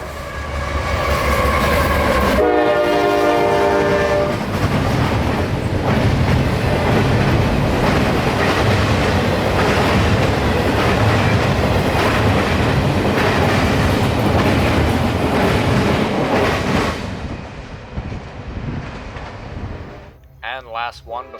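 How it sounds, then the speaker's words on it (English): A CSX intermodal stack freight train, running at night from Tampa to Jacksonville, passes close by with a loud horn blast at the start, then a long steady roar and clickety-clack of wheels over rails before fading away. "our nightly intermodal stack train out of Tampa to Jacksonville's intermodal ramp"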